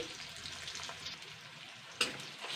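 Onion, ginger and garlic paste fries in a pan with salt and sugar, giving a soft continuous sizzle that is close but quiet, broken by a sharp clink of a stirring spoon near the end, with no talking.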